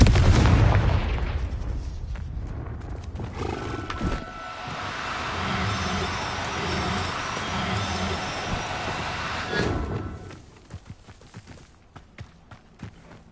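Confringo blasting spells burst in Hogwarts Legacy on PS5, a loud booming explosion opening into a sustained rumbling roar with crackling debris, then trailing off into scattered smaller impacts and footsteps.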